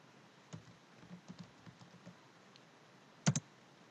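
Typing on a computer keyboard while working in Microsoft Excel: a few soft, scattered key taps, then a sharper double click near the end, all fairly quiet.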